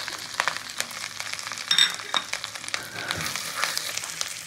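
Ginger paste, ground cumin and chili powder fry in hot fat in a pan, giving a steady close sizzle with crackling bursts and faint stirring scrapes throughout.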